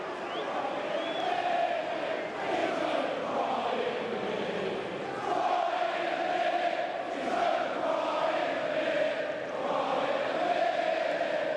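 Large football stadium crowd at a Championship match between Queens Park Rangers and Watford jeering and booing in a sustained, swelling roar, loud and continuous with shouting voices mixed in.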